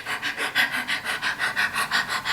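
Rapid, rhythmic dog panting, about ten quick breathy huffs in steady succession, close and fairly loud with no talking.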